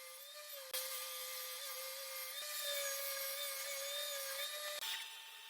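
A table saw rips wood strips with a steady, fairly faint high-pitched whine and a hint of cutting rasp, broken by a few brief dips. Nobody speaks.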